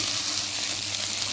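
Okra and tomato sauté steadily in a hot pan for a stew, giving a close, continuous crackling sizzle with no voices.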